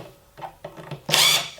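Power drill driving a screw into wood, with a few short bursts of whirring and then a louder, sustained burst of the bit biting into the wood at close range.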